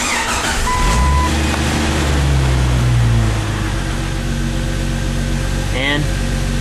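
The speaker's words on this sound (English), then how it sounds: "Alright, Jeff, go ahead and start the vehicle." A vehicle engine, just after an oil change, runs steadily with a low droning hum throughout, a brief rise in pitch near the start, and a short squeal late on; people talk in the background.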